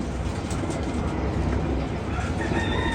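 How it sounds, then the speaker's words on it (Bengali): Soft cooing and chirping of a blue-tailed pigeon chick over a noisy, busy background, with a few faint higher calls toward the end. "এটা একটা আমার নীলদুম্বা কবুতরের বাচ্চা"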